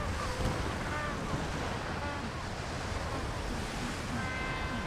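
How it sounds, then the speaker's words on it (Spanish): Steady, loud wind roars across the microphone without pause, a broad rushing noise that stays constant throughout. "solo el sonido del viento y la respiración"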